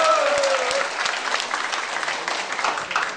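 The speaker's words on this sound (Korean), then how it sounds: "박수!" Applause from attendees at an apartment complex association meeting as a vote to dismiss officers is declared passed. Steady, dense clapping fills the room throughout, briefly preceded by a voice.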